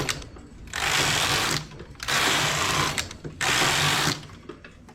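A knitting machine carriage slides across the needle bed in three long rows, each pass a loud, close whirring rasp broken by short clicking pauses between strokes, knitting a lace pattern made with a transfer tool.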